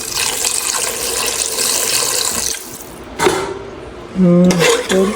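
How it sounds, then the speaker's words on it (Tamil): Water added to a cooking pot while making a gravy dish in a home kitchen, a steady broadband rush of pouring for a couple of seconds, then a pause and brief clinks of a vessel against the pot, close and fairly loud. "இப்போ தண்ணி சேர்க்கணும்"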